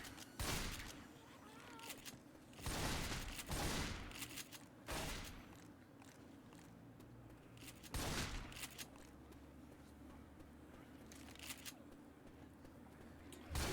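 Chrome pump shotgun blasts in the Left 4 Dead 2 game on the Dead Center map, several loud separate shots spaced a second or more apart over steady game ambience, with quieter clatter between.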